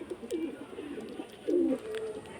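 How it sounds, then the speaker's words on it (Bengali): Pigeons, including common desi birds, coo in soft low bursts while being let outside, with a louder, closer coo partway through and faint background noise. "দেখো পায়রা বাইরে ছাড়ছি"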